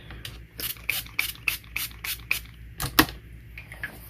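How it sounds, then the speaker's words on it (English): A series of short, sharp spray bursts, about a dozen quick pumps in an uneven rhythm, close by, with a louder burst near the end. "I'm going to put some spray on there"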